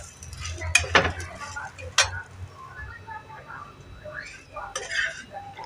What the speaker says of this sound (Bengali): লো হিটে হালকা হালকা করে মশলাগুলো ভালো করে ভেজে নিতে হবে